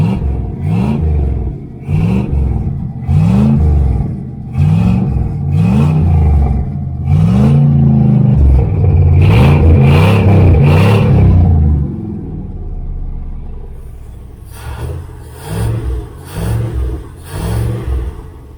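A 1976 Chevrolet El Camino with Flowmaster exhaust, running cold with the choke on, revs in a series of loud, deep rhythmic blips, then settles to a rumbling idle before several more short revs, close and loud.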